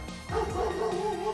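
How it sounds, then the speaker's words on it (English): A dog barks and yips indoors, a short whimpering bark followed by a sustained whiny yelp, close and moderately loud, with no one talking. "The dog's just going to keep barking."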